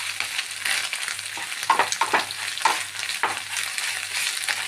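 Egg frying in a pan for an okra egg thoran, a continuous bright sizzle with irregular bursts of spatula stirring, close and fairly loud, no voices.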